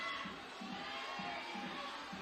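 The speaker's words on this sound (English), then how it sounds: "Allez Le Bleu is being shouted by the crowd" Crowd at a women's bouldering semi-final climbing competition in Curitiba chanting in a steady repeating rhythm, the pulsing voices carried over a continuous wash of arena noise at a distance.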